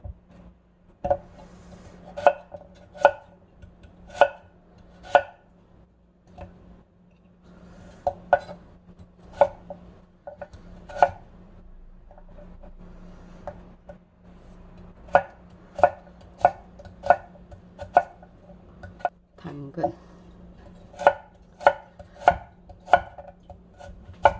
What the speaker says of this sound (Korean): 재료를 썰어 볼게요 감자 큰 거 반 개만 하면 돼요